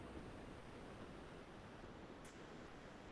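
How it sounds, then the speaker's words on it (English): Heavy rain falls outside a room, heard as a steady, broad wash of hiss that holds even in level, with no talk. "It sounds like we're getting some heavy rain outside."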